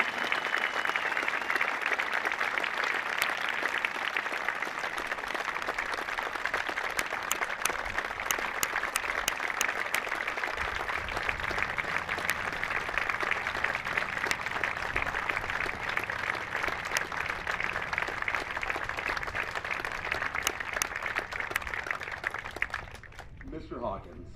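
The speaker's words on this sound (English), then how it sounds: "Let's give Master Sergeant Keeble and yourself a round of applause." Sustained audience applause at an outdoor Memorial Day veterans cemetery service honoring a Master Sergeant, steady dense clapping from a large crowd for over twenty seconds before tapering off near the end.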